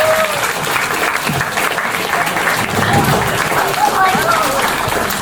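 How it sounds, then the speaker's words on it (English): Loud, sustained applause from a morning audience greeting an entrepreneurship speaker, a dense wash of clapping with some crowd murmur and cheering mixed in. "Can we give Nathan a round of applause?"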